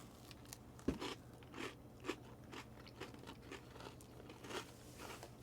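Crispy butterscotch cookies made from a 1938 recipe crunch under close, quiet bites, with a sharp first crack followed by softer rhythmic chewing crunches.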